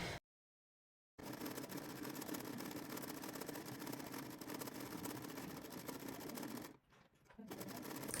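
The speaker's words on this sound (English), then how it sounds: "I folded the strap into 2 and I'm making a stitch straight down to the end" A sewing machine stitches straight down a folded fabric strap for a crop top, a steady close mechanical hum running continuously after a brief silence, with a short dip near the end.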